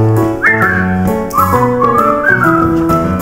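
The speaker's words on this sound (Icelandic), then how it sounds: "Prófaðu að flauta." Melodic whistling at a musical read-through, a clear tune of sliding and sustained notes played over a bright instrumental backing, loud and close.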